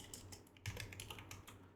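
Rapid typing on a computer keyboard while coding, a close run of light clicking keystrokes with a slightly firmer cluster midway.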